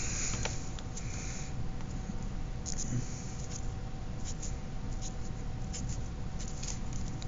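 A colored pencil scratches and taps in short, irregular strokes while drawing stitching details on a painted shoe, faint and close over a low steady background hum.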